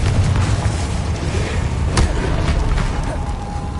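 Confringo fire spell exploding in Hogwarts Legacy combat: loud, dense booming bursts rumble continuously, with a sharper blast near the middle, and no talking.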